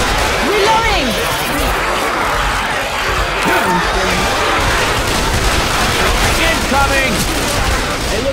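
Heavy, continuous gunfire from multiple weapons in the zombie shooter Left 4 Dead 2, loud and dense throughout with overlapping bursts, while players talk over the chaos.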